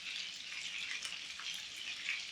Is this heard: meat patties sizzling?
yes